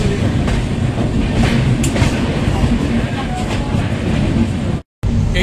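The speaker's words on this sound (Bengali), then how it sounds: "আমাদের ট্রেন 12517 গুয়াহাটি গরিবরথ এক্সপ্রেস ছেড়ে যাচ্ছে কলকাতা স্টেশনে 4 নম্বর প্ল্যাটফর্ম।" The 12517 Guwahati Garib Rath Express pulling out from platform 4 at Kolkata station: a loud, continuous rumble of train wheels and carriages rolling close by, ending in an abrupt brief cutout.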